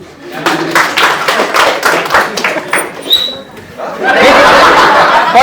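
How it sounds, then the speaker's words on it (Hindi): A classroom of students claps together in a burst of quick, loud, overlapping hand claps, followed by chuckles and laughter with a teacher's voice nearby. "ताली बजाओ।"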